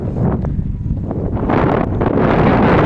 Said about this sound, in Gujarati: પવન હોતી છે